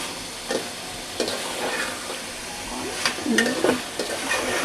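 Chicken cooked with papaya sizzling and frying in a pan while being stirred, with a steady hiss broken by several sharp scraping stirs, close and fairly loud.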